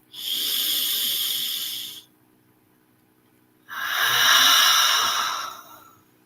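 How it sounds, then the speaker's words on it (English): Two long, deep inhalations through the nose, each about two seconds of smooth airy hiss, close and clear, separated by a short quiet pause. "One last time, inhaling through the nose."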